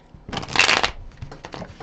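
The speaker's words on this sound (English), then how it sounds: "A couple more shuffles, guys." Tarot cards riffle in a quick shuffle, a loud, close burst of rapid flicking that tapers into softer patters and taps as the deck settles.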